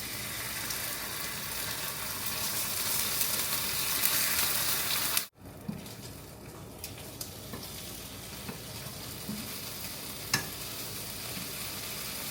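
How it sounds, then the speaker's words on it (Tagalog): Eggs frying in a pan, a steady loud sizzle broken by a brief dropout, then continuing with scattered pops and clicks. "I'm going to fry some egg"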